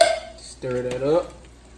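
Canned white beans stirred in a pot, a brief wet scraping and shuffling of a spoon moving through the beans, close up, with a short voice-like tone in the middle.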